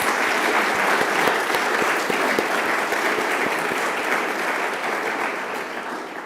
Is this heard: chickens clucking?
no